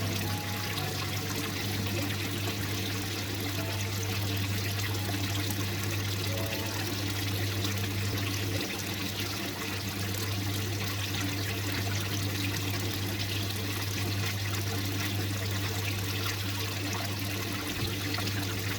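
Water draining down through a standpipe in a newly set up aquaponics system, a continuous trickling, gurgling flow heard steadily for nearly twenty seconds over a constant low pump hum, with no talking.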